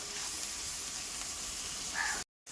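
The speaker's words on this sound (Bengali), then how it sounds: "পেঁয়াজটা ভালো করে ভাজতে হবে।" Onions fry in hot oil with a steady, close sizzling hiss that swells briefly before cutting off abruptly into silence.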